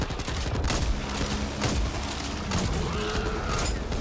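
Gunfire from weapons shooting the Ogre boss in Back 4 Blood, dense rapid bursts of shots layered with game effects and mechanical clatter, loud and continuous.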